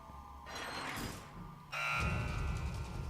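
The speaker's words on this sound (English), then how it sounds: "Once you hear that beep going off, quickly hack these." A tonal electronic beep sounds in Resident Evil 2 Remake, set in the police station and sewers, with a sustained buzzing alarm tone that shifts midway into a louder, brighter mechanical beeping with no talking.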